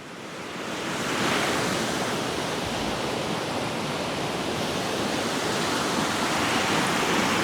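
A river in the Sangre de Cristo foothills rushes with a loud, steady broadband wash that swells slightly after the first second and holds even, close by, without talking.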